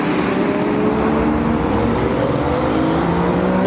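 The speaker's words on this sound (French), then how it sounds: "Oh, Cayman GT4." A Porsche Cayman GT4 passes amid a dense, continuous rush of car noise, its engine tone steady and loud among other traffic around a racing paddock.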